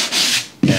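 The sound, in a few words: hand sanding drywall around an electrical box cutout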